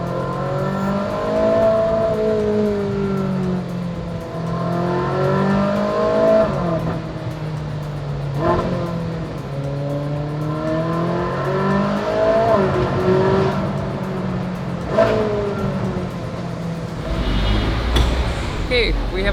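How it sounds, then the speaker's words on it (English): Naturally aspirated V8 sports car engine, likely a Ferrari, revving and pulling through rising and falling sweeps over nearly twenty seconds, loud and close throughout with a harsher burst near the end. "Naturally aspirated V8, still the best sounding engine, one of the best."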